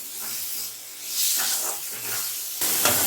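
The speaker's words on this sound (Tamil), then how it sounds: "உப்பு இந்த ஸ்டேஜில் சேர்த்ததுனால சீக்கிரம் வெங்காயம் வதங்குது" Onions with salt sauté in a pan, giving a close, steady hiss and sizzle that rises and falls as they are moved, with no talking.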